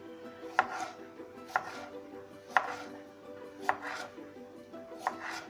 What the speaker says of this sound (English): let us cut up the onions and the tomatoes